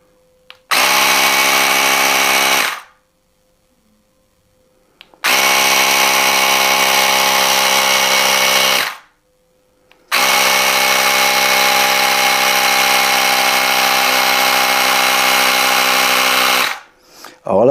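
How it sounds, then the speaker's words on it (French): A Parkside pneumatic sprayer's compressor runs loud and steady in three long bursts, pausing briefly between each, with a harmonic motor whine. "on met le compresseur, on le visse sur la valve"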